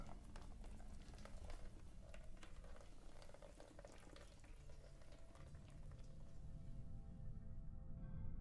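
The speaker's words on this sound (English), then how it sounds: "And there's the rain." Rain patters in the video game Cloud Climber, a dense crackling hiss with scattered drops, steady and fairly soft throughout with no speech.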